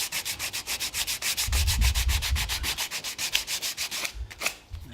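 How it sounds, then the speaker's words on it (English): Hand sanding fibreglass filler on a 27ft Nauticus cruiser under restoration, a rapid run of rhythmic abrasive strokes close by, steady and even with a brief pause near the end. "Obviously my sander can't get to that bit, so that's something I'll do manually."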